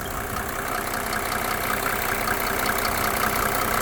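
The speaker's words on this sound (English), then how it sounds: "the engine is starting to sound a little bit quieter" A 1987 Mercedes 300SDL W126 with the OM603 diesel idles steadily and close by during a diesel purge of the injection pump and injectors, a continuous low rumble with a faint clatter running through it.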